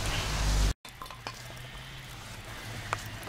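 Charcoal in a grill made from a washing machine drum gives a soft, steady crackling sizzle with faint pops, briefly cut off by a short gap, then continuing quietly without speech.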